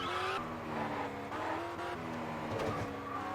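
Race car engine roaring during a checkpoint race in the video game Test Drive Unlimited, a loud, steady, high-revving drone with shifting pitch and faint tire noise throughout.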